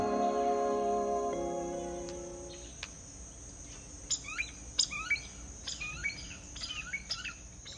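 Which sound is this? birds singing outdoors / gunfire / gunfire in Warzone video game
birds singing outdoors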